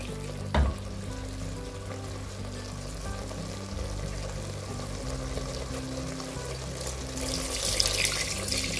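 Water is poured into a pot of sautéed mutton and potato kurma, a continuous close pouring and splashing with a faint sizzle of the hot pan, one sharp clink near the start and a brighter gush toward the end.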